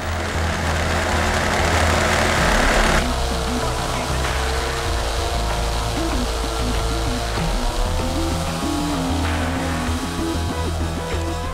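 An internal combustion engine, likely a small model-aircraft type, runs on fuel made from seawater, giving a loud, continuous droning whine that holds steady throughout.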